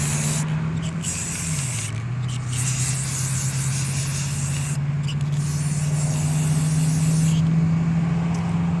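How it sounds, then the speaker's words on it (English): A spray paint can hisses steadily while coating junk items in fall colors, a close continuous spray with brief breaks between passes and a low hum running underneath. "I'm just going to turn them over"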